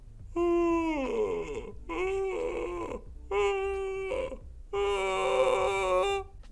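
A voice makes four low, creaky sustained vocal-fry tones with a lowered larynx, each lasting about a second, separated by short pauses; the sound is dark and gravelly.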